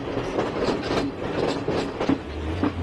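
Loud, close rumble of a train on the Kandy to Ella line in Sri Lanka passing through tea gardens in cold, cloudy weather, with steady clickety-clack wheel beats and brief metallic squeals.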